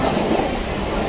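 A passenger train rolls along the rails in a steady, loud, broadband rumble with a continuous roar and no break, heard from on board with no talk.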